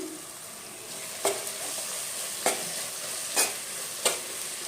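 Onions sautéing in a pan for a Telugu-style bommidi fish curry, a steady soft sizzle broken by four sharp scraping stirs spaced about a second apart, close and without talk.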